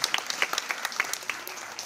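Light, scattered clapping from an audience at a New Year's greetings gathering held by an Essonne deputy in Évry-Courcouronnes, soft and somewhat distant with irregular sharper claps.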